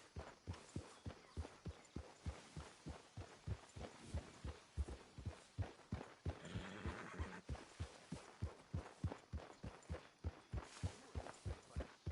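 A horse in the video game Red Dead Redemption, a steady run of soft, rhythmic hoof thuds at an even trotting pace, faint and continuous.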